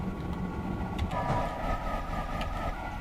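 A high-speed French train on the LGV Rhône-Alpes and Méditerranée line in Train Simulator runs at close to 186 mph, giving a steady roar with a sustained tonal hum and a faint swell partway through.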